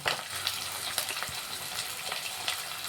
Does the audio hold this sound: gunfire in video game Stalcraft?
no